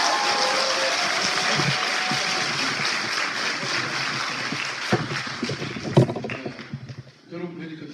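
Steady applause from a crowd at a Democratic Party new members' academy fills most of the stretch, then fades as a voice starts speaking.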